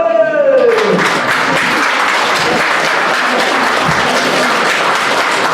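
Steady applause from a crowd at an 80th birthday celebration, continuous clapping that fills the whole stretch at a loud, even level, with a brief voice at the start.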